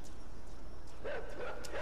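A dog in a video game gives a few short yipping barks amid steady game ambience and background noise.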